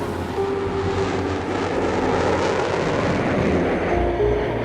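An early jet airplane roars past on a record speed run over a measured mile, a loud, continuous broadband rush that holds steady throughout with no voices.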